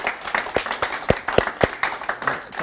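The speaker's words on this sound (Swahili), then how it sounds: "Wapi makofi ya mchungaji tafadhali?" A small church audience gives scattered, uneven hand claps to welcome pastor Ringtone Apoko, moderately close, with a few sharper claps standing out in an irregular rhythm.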